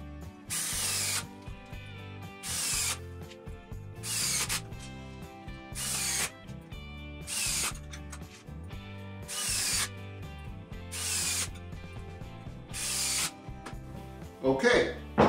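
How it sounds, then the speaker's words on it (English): A power drill drives screws through a lathe faceplate into a thick maple blank, sounding as about eight short, evenly spaced whirring bursts over steady background tones. "Faceplate on, and I just need to put the screws in to hold it there."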